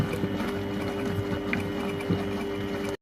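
A Compact Cook Pro cooking machine heats and stirs a detox soup with garlic. Its motor gives a steady, soft mechanical whir with faint rhythmic clicking, heard alone at low volume.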